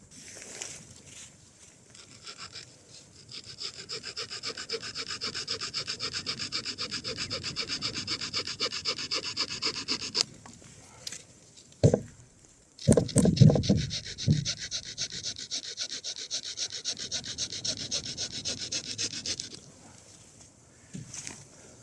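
A Leatherman Surge blade shaves wood into fine tinder in close, repeated scraping strokes, rasping bursts in two long runs separated by a brief pause with a few knocks and handling noises.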